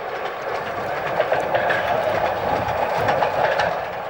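A replica of the Sans Pareil steam locomotive runs along rails in a steady, rushing roar with rhythmic clattering from the wheels, continuous and moderately close, with no speech over it.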